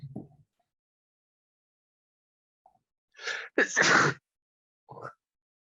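A single sharp sneeze breaks a quiet room, preceded by a brief intake of breath, with a few faint vocal sounds before and after.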